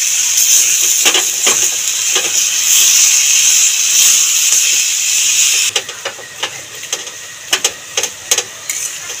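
Hog plum chutney with turmeric and salt sizzles and hisses steadily in a frying pan, a bright continuous frying hiss broken by scattered clicks and scrapes of stirring that become sharper and more distinct toward the end.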